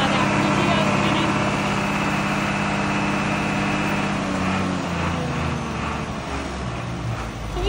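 1995 American Road Machinery ALC-25 towable leaf collector running with its PTO spinning, a steady loud engine drone with a whirring mechanical tone, close by and unbroken.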